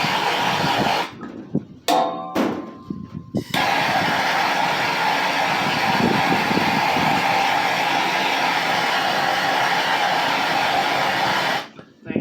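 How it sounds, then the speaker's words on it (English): A heat gun blows a loud, steady, close-up whooshing roar while shrinking heat-shrink tubing on a wire during enclosed trailer repair work, cutting out briefly near the start and again at the end, with a person speaking over it. "That's all it takes to heat shrink a wire."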